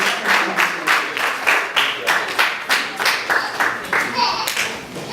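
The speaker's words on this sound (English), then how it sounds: "Y'all give him a round of applause, everybody." Audience applause at an educational talk, a small group clapping in a loose, uneven rhythm of distinct sharp claps that stays fairly loud and close throughout, with some voices mixed in.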